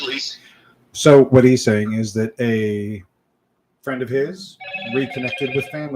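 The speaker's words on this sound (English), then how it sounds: "That's my phone." A mobile phone ringing during a live event, its bright repeating tone sounding near the end after speech, while people talk and one person interprets for another.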